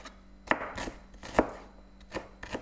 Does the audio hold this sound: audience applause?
no